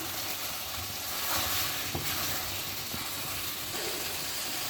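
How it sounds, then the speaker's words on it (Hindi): Spices fry and sizzle steadily in oil with lemon juice for a shahi white korma, a soft, continuous hiss with faint stirring clicks, close and alone. "हमारी भुनाई जो है ये भी जारी है।"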